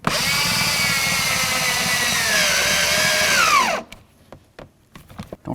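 Power driver running screws into the exterior door handle of a 1988-2002 GMC Sierra 1500 pickup, a loud whine that drops in pitch as the screw tightens and then stops, followed by faint clicks and handling noises.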